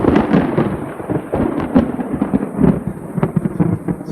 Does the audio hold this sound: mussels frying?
no